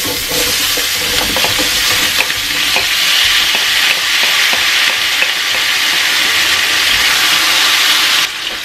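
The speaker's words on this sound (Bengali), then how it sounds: "এখন সেই একই তেলে ভেজিটেবল গুলোকে দিয়ে দেব, আলু আর ফুলকপি গুলোকে ভেজে নেব।" Potatoes and cauliflower fry in hot oil with a loud, dense, continuous sizzle and hiss. Faint stirring knocks sound underneath, and the frying stops abruptly near the end.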